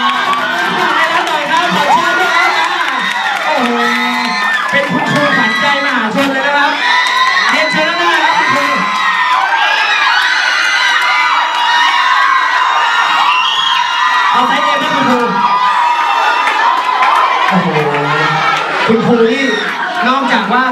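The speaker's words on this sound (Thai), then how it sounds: "อาะขอเสียงปรบมือให้กับเพื่อนทีก่อน" Classroom of Thai Mathayom 4 students at a girls' school cheering, whooping and applauding a classmate, a loud continuous crowd roar with shouting voices layered throughout.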